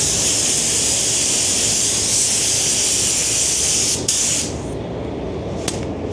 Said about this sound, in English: we're going to chuck another full coat of your pearl coat on there